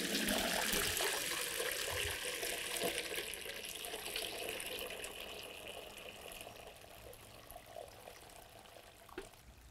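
Warm weld dye liquid, made from the garden plant, pours steadily into a tin container with a continuous splashing trickle. The sound is fairly close and slowly fades as the pour tapers off.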